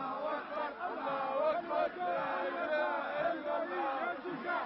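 A fervent crowd at a funeral procession by a mausoleum, held back by police, produces a dense, continuous roar of overlapping shouting voices that swells and dips.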